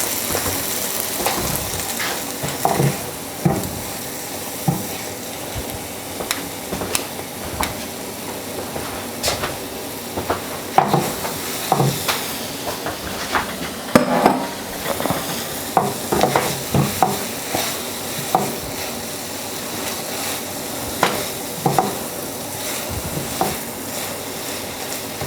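Beef in a sauce thickened with slurry, stirred in a pan for a Korean beef dish, gives repeated scraping and clinking stir strokes over a steady sizzle, close and fairly loud, with no talking.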